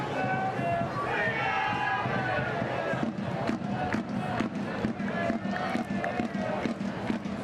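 Dense, steady roar of a football stadium crowd at an A-League match between Sydney FC and Central Coast Mariners, with swelling shouts and chanting throughout and no voice standing out.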